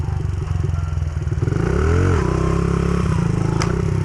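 A motorcycle engine revs steadily during stunt practice, with a loud close drone that swells and dips in pitch as the throttle rises and eases, plus a brief metallic clatter near the end.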